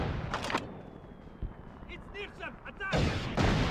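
Heavy booming gunfire in the Mercenaries 2 game, several deep blasts with a big thump near the end, while a voice talks over the battle.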